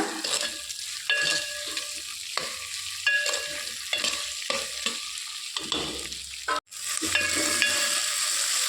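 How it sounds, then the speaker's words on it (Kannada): Fried okra tossed back into hot oil with onions for bendekayi sambar: a close, bright sizzle interrupted by repeated stirring strokes, a brief pause, then a steady, louder fry. "1 ನಿಮಿಷ ಬೆಂಡೆಕಾಯಿ ಹುರ್ಕೊಳ್ಳೋಣ"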